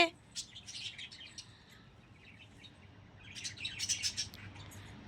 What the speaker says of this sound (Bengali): বুলবুল পাখি হচ্ছে।